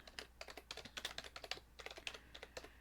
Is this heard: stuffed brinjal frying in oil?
no